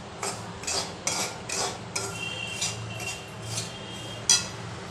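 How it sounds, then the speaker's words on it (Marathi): Coarse semolina (rava) being dry-roasted over low heat in a heated kadhai, giving a series of light, regular scraping and clinking strokes of a spoon against the metal pan, close by and fairly quiet, with no talking. "मी कढई तापत ठेवली आहे आणि आता आपण रवा भाजून घेऊ."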